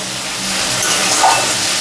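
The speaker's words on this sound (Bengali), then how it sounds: "পেঁয়াজটা ভেজে নিই মাছের তেলের সঙ্গে।" Onion fries in oil left from frying rohu fish in a home kitchen, giving a loud, close, steady sizzle that hisses without a break.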